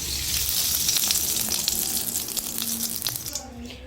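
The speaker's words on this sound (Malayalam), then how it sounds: "ചട്ടി നന്നായി ചൂടായിട്ടുണ്ട്. അതിലേക്ക് കുറച്ച് എണ്ണ ഒഴിച്ചു കൊടുക്കാം." Hot oil sizzling and crackling in a heated clay pan on the stove, a steady close frying hiss that holds for several seconds and fades out at the end, with no talking.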